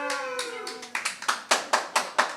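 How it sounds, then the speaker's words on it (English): A comedy game show's studio audience claps in a scattered way, the sharp individual slaps starting sparse and then settling into a loose, rhythmic beat of separate claps, with a voice trailing off at the beginning. "You guys look like you feel like you had to clap for that"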